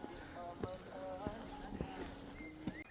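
Two donkeys on the Gosaikunda trekking trail in Rasuwa, Nepal, their hooves tapping out a few sharp, close clip-clops on the path, with tonal chirps and a soft background murmur alongside.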